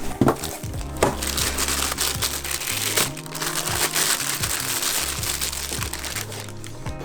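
A power supply for an HF radio is pulled from its plastic wrapper, giving a run of close crinkling and crunching rustles with a few sharper cracks, irregular and fairly quiet, with no voice.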